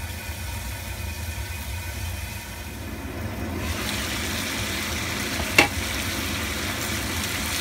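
Thick chicken thigh meat pan-fries under a lid, a continuous broad sizzle that swells louder midway, with one sharp clink of a lid or utensil, no talking.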